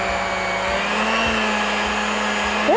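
An electric mixer whirs steadily as it beats sugar cookie bar dough, a loud, even motor drone with faint rhythmic thumps from the beaters, ending with a brief rising pitch.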